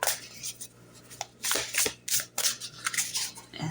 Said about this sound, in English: Like, look how beautiful these just shuffle.